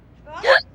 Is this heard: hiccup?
yes